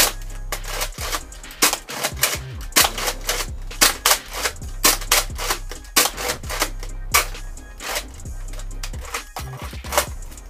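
A Nerf Recon CS-6 toy blaster fired repeatedly, a rapid series of sharp plastic clacks and spring thumps in an uneven rhythm, close and fairly loud with no speech.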